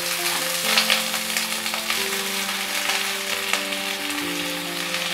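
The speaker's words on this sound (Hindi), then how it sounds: "मैं चाहती हूँ थोड़ा सब चीज़ को सॉटे कर लेते हैं।" Onions, green chillies, tomatoes, ginger and garlic sautéing in a pan for a stuffed dum aloo puree, with a loud continuous close sizzle, some faint utensil scrapes and a steady hum underneath, no talk.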